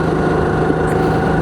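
A racing kart engine runs on the track at Kart Concept Blois, Landes-le-Gaulois, during a practice session. It drones loudly and steadily up close with a buzzing, vibrating tone and no pauses.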